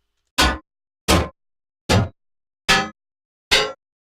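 Five evenly spaced sharp impacts from the Doom chaingun's bullet hits on flesh and metal, a video game effect, each a punchy crack with brief clanging ring, clean and loud with silence between.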